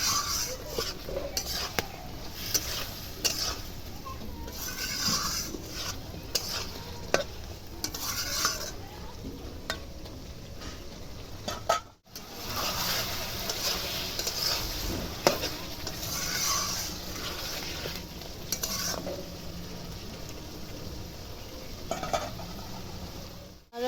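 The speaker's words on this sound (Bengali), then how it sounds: "সামান্য একটু জল দেওয়া হলো বাটি ধোয়া জল আলুর সাথে মশলাটা ভালো করে কষিয়ে নেওয়া হচ্ছে" Potatoes and spice masala stir-fry in a pan with a splash of water for a village-style rohu fish curry: steady sizzling, repeated stirring and utensil scraping, close and continuous, with a brief drop near the middle.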